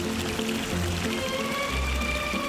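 River flowing beside a campsite, a close and continuous pouring rush of water with bubbling tones, steady and fairly loud.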